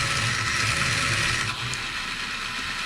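A servo turns in a Cross RC HC6 US Army model truck, giving a steady close mechanical whir and gear buzz that runs continuously throughout, with no voices.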